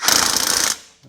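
A burst of rapid ratcheting from a tool tightening loose lug nuts on a 1975 Monte Carlo wheel, loud and close for under a second before it stops abruptly.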